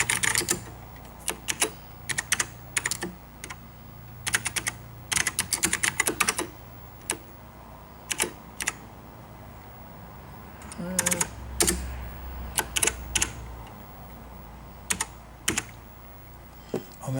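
Typing on a MacEffects Apple IIe keyboard, close-up clacky keystrokes coming in quick bursts and single presses separated by pauses, with a brief low voice partway through.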